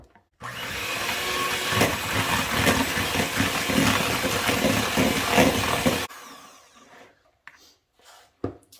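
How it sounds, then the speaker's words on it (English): An electric mixer creams butter, sugar and orange for orange cardamom shortbread cookie dough, giving a loud, steady whirring motor drone for about six seconds before it cuts off, followed by a few quiet clinks. "I'm going to plug in my mixer here, and we are going to cream the butter and the sugar and the orange"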